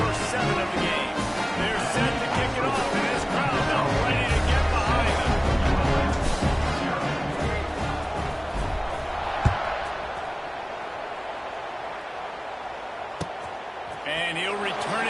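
A football stadium crowd at a college game between ULM and Kennesaw roars in a broad, sustained swell before kickoff, loud and steady, then easing slightly, with a commentator talking over it.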